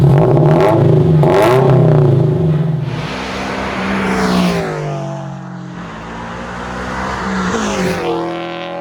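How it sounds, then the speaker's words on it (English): A Subaru FRS engine revs up several times, the exhaust rising and falling in loud, throaty bursts, heard close from behind with no talking. "we're gonna give it a couple revs and see what it sounds like from the back"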